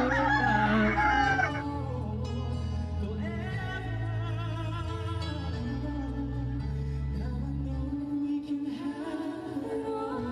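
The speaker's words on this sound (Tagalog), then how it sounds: "sobrang ingay ng manok sa likod ko" A rooster crows loudly behind a live music performance, with the clear crow near the start and the ongoing song continuing underneath.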